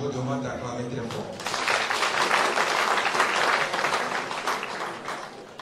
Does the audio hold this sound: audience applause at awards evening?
yes